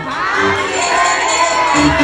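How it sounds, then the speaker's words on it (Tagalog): A crowd of children at a Jollibee fourth birthday party shouting loudly together, a dense, sustained burst of cheering voices close by. "At sabay-sabay natin sisigaw ang happy birthday of Marish in 3, 2, 1, and sigaw!"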